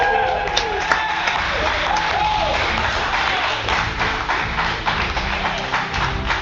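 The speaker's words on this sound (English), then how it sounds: "Can we fucking clap?" Steady clapping from a small group during a livestream, a continuous patter of hands with a voice talking over it.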